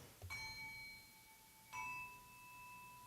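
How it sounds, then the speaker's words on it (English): Schulmerich silver melody handbells of nickel-plated brass ring out in two soft, separate strikes, each leaving a bright, sustained metallic tone that slowly fades, heard alone with no voices. "silver melody bells are made of brass and then nickel-plated to give them the unique look and sound"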